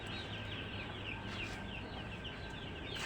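Chicks peeping in a poultry house on a farm, a steady, dense chorus of high chirps filling the space with constant low farm hum beneath.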